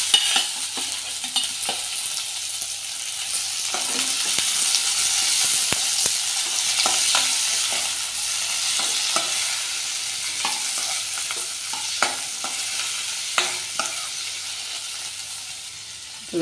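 Onions and tomatoes sizzle steadily in a hot pan for a white chickpea curry, with a utensil stirring and scraping at irregular intervals throughout, loud and close with no talk.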